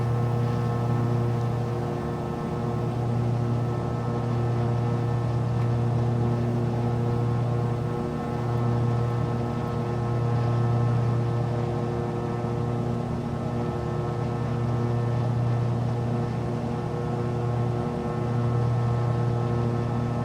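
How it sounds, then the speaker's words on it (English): Aircraft engine idling on the ground in a flight simulator near Henderson, Las Vegas: steady, even droning hum with a slight periodic waver, continuous and unbroken, with no talk. "I'm still just idling right now."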